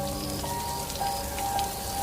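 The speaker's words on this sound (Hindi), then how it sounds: "तभी अचानक एकदम से बारिश शुरू हो जाती है।" Heavy rain pours down in a dense forest, a steady close hiss of drops on surfaces, loud and unbroken, with a few faint tonal sounds behind it.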